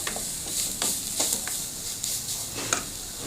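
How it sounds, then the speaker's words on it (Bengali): Grated beet, carrot and green chilli are stirred in a hot pan for vegetable chops, giving a soft, steady sizzle broken by scraping strokes and light clicks of the spatula. "বিট গ্রেট করা বিট গ্রেট করা গাজর আলুটা আমি একটু পরে দেব এবার দিয়ে দেবো কাঁচা লঙ্কা আবার একটু নাড়াচাড়া করে নেব"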